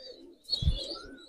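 Pigeons in a breeding loft, a farm of Pakistani pigeons, give a short burst of low cooing with a few chirps, close by and brief, over quiet loft ambience.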